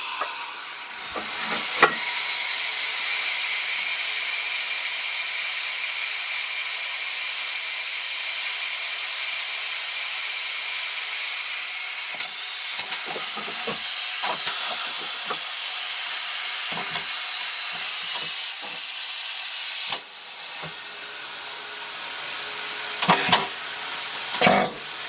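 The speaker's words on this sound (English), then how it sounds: "I'm going to go ahead and open up the air compressor." An air compressor fills a Coats 5030A tire machine with air, making a loud continuous hiss, with a few brief knocks and clatters scattered through it.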